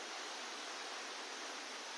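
Steady broadband roar of water pouring down a waterfall, dense and constant, hissing with no breaks and no voices.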